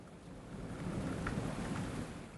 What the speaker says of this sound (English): The rain has settled into a rhythm you could set a clock by